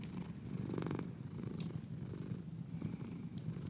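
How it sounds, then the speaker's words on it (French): A cat purrs steadily and softly up close, a low rhythmic rumble that rises and falls with each breath, with no voices. "Vous ressentez le ronronnement du chat jusqu'au niveau de votre cœur"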